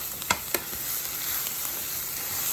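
Cream cheese sautéing in a pan for spinach nachos gives a steady, close hiss of sizzling, with a couple of brief utensil taps near the start and no speech.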